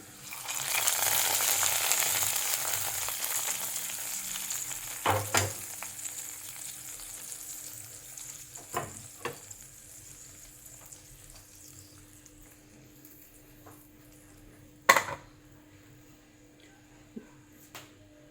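Curry leaves hiss into a tempering for a village-style prawn curry with drumstick, a loud bright sizzle at first that gradually fades, broken by a few sharp clatters of utensils.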